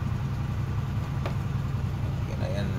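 Engines of a Philippine outrigger boat (bangka) running at a steady idle, a close, continuous low rumble throughout, with a voice faintly present over it.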